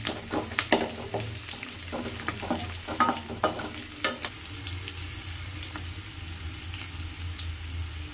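Okra pieces frying in a pan, a continuous sizzle broken by several sharp scraping and clattering stirs early on, then a steadier, quieter fry, close up with no speech.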